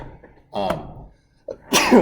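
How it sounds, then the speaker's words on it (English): Two sharp sneezes from a man with allergies, the second louder and breathier, bursting out of a quiet classroom-style setting during a geometry lesson on parallelograms. "that's why I sneezed right there"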